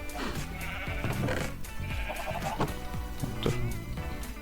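Sheep in a Minecraft one-block horror game bleat several times in quick succession over a busy game soundtrack, fairly loud and close.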